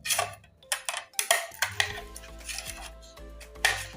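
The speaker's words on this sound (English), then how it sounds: "why is she cutting the onion into two before peeling?" A knife slicing an onion in two without a chopping board, giving a string of sharp clicking cuts and taps up close, with a low hum underneath.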